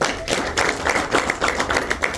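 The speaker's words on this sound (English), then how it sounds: "let's give a big round of applause for this amazing institution" Audience applause at a finance talk during a mining company wellness day, a short burst of many hands clapping steadily and fairly loud, with no talk over it.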